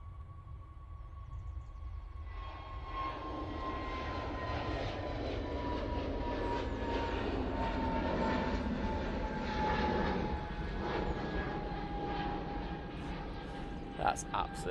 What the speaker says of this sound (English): EasyJet to Madrid. Now taking off.